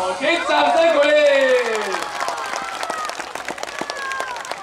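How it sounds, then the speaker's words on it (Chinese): At an elementary school talent show after a diabolo act, a raised voice calls out over the crowd before clapping takes over, and the applause rattles on steadily to the end. "给掌声鼓励！"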